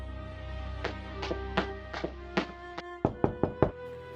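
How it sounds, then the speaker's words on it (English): A series of sharp knocks on a wooden side door inside a house, about nine raps in uneven clusters, loud and close, with no talking. "his father came knocking at one of the side doors"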